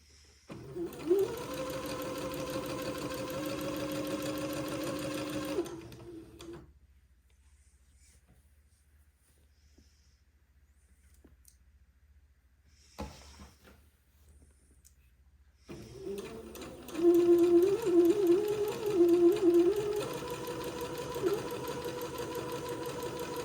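A sewing machine runs close along the edge of a seam on a boy's baby day gown, stitching in two steady bursts of about six seconds each, separated by a long quiet pause.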